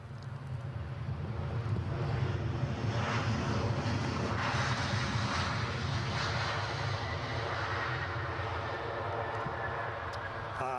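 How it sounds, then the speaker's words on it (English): A Ryanair airliner arriving at Edinburgh airport, its jet engines producing a loud, sustained roar that swells and holds across the whole stretch, with wind noise underneath and no talking. "Ryanair inbound from somewhere."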